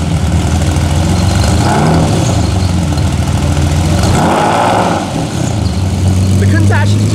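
A Lamborghini Countach engine runs loud and close after being pulled out, a deep steady rumble with light revving swells, while people talk over it.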